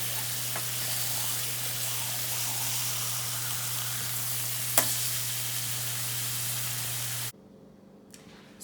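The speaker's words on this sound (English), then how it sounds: "So while the burgers are sizzling" Steady frying sizzle from burgers in a pan, a continuous hiss with one brief click, cutting off abruptly near the end.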